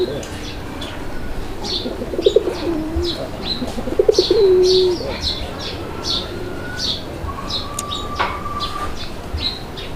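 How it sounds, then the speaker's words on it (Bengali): A pair of black Bombay pigeons coo in low, throaty bursts around the two- and four-second marks, with light chirping and background chatter around them. "এটা হচ্ছে কালো বোম্বাই কবুতর একটা জোড়া"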